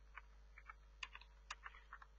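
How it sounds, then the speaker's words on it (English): Typing on a computer keyboard while entering an email address, a quiet close run of sharp key clicks in uneven bursts over a low steady hum. "here I'm just typing email"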